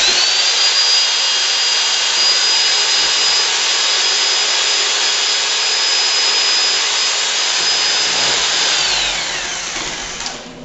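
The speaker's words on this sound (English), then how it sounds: "So we'll go ahead and stir all that in really well." Berry blend wine must being stirred in a fermenting bucket, with a loud, steady mechanical whine like a drill-driven stirrer running for about nine seconds before winding down.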